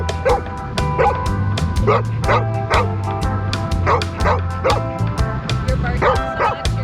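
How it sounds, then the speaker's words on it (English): A dog barks rapidly and repeatedly, sharp yips and woofs in a steady stream, close and loud, with a low hum underneath. "You're barking so much, you're cross-eyed."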